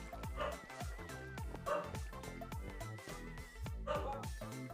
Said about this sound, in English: Do you guys hear the dog barking?